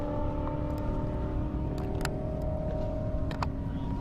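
A Subaru WRX drag racing car idles and runs steadily at a half-mile airport drag strip, a loud, continuous engine drone with a few brief sharp accents.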